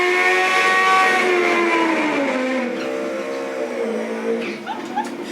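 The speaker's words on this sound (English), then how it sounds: "Chuck Massey gets a deep stage foul. There goes Vince" Suzuki GS-based funny drag motorcycles launching down a drag strip at a PMRA event, a loud sustained engine roar with rising harmonic pitch sweeping upward, steady and close, fading slightly toward the end.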